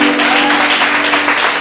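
Church congregation giving loud sustained applause during a service, a dense, close wash of clapping throughout.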